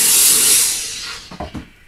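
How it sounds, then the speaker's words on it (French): A steam cleaner blasts a loud, broad hiss of steam while cleaning a car, fading off over about a second, followed by a few short rubbing or tapping sounds close by. "nous revoilà avec un petit coup de nettoyage à la vapeur"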